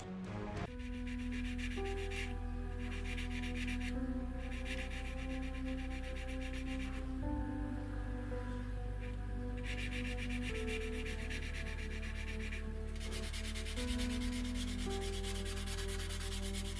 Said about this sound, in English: Any rough areas of primer are smoothed off with a 1000 grade sanding pad.